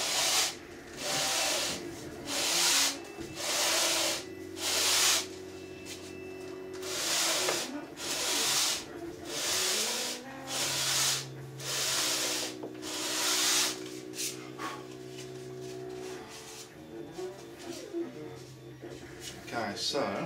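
A 3D printed ABS part for mould making is rubbed back and forth on a sanding board, giving steady rhythmic scratchy strokes, about a dozen close passes with brief pauses between, over a faint tonal background.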